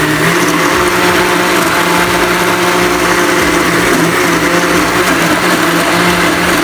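A large electric mixer blends cauliflower mash in a big bowl, a loud, steady motor whir with a grinding texture that runs unbroken throughout.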